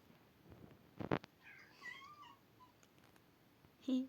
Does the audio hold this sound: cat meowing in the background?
yes